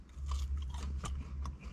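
Close, quiet crunching and chewing of KFC chips for a couple of seconds, with soft bites and a sharper crunch midway.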